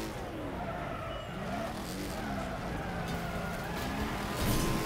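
A car in the Wreckfest demolition racing game spins out with a steady engine roar and squealing, skidding tires, ending in a brief heavier thump.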